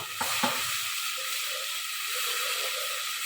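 Shrimp sizzling loudly in a hot pan for a bottle gourd curry, a dense continuous hiss after a couple of brief clatters at the start, no talk.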